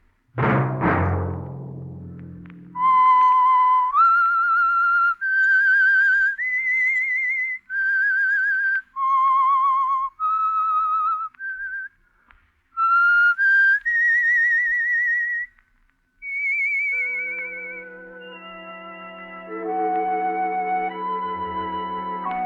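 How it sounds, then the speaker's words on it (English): A lone whistler carries the signature theme melody of The Whistler, a Signal Oil radio mystery program, in sustained, clear notes with short breaks, ending as a low orchestral chord swells in beneath the final phrases. "Let that whistle be your signal for the Signal Oil program, The Whistler"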